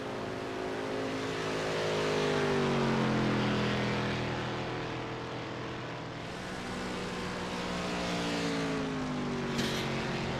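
Race cars in the iRacing simulation cross the finish line at Daytona, a steady engine drone that swells as a car approaches, eases off, then builds again, with no voices.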